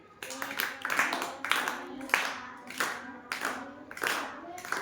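A class of children claps hands together in a counting game, producing a steady rhythmic run of sharp, close claps in quick bursts across the whole stretch.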